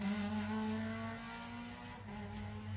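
A racing car, a Honda Civic Type R among the European championship field, accelerating toward the finish line of a hill-climb race, its engine note rising and sustained, fairly faint and heard alone.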